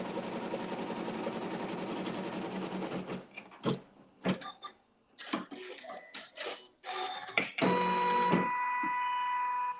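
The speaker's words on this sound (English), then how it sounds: "you would use just a regular sewing thread and you can stitch your seam" A sewing machine stitching a fabric seam with regular sewing thread, running in a dense continuous whir for a few seconds, then stopping and starting in short bursts with clicks, close and clear, no talking.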